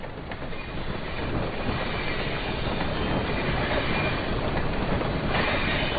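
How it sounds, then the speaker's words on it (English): A train rolls past with a steady rumbling clatter of wheels on track, set in the video game Blind Jack the Ripper; the broad noise holds loud and continuous throughout with no voices. "I love the sound of the trains and stuff."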